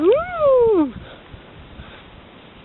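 A domestic cat, a pet on a grandparents' farm in the countryside, lets out one loud rising-and-falling meow close by, then goes quiet amid faint background noise and soft speech.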